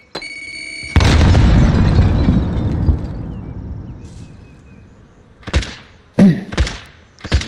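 A grenade in the video game Call of Duty bursts into a loud, close boom with a long rumbling decay, followed by a few sharper thumps and bangs later on.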